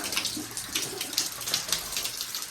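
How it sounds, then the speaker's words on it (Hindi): Water falling from a waterfall, a steady, close rush and splash of moderate loudness with flickering spray texture throughout and no voices. "देख सका मस्त झरना से गिरा है पानी"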